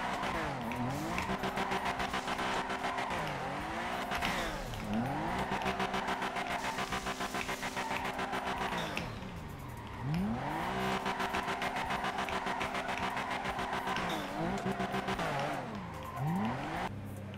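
A game car's engine drones steadily with rising and falling pitch sweeps as it revs, shifts and speeds up, with tire squeals and skids along the way, loud and continuous throughout.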